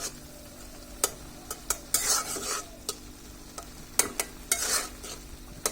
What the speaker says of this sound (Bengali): এখন এটাকে আমরা 5 মিনিট ভালোভাবে একটু নেড়ে চেড়ে নেব।